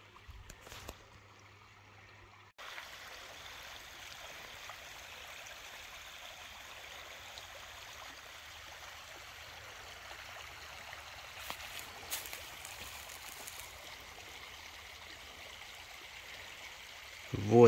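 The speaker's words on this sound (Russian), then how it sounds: "Воды весенние." A spring meltwater stream runs steadily outdoors in thawing weather, a soft continuous rushing and trickling wash of water with no voices, brief knocks near the start and a louder bump at the very end.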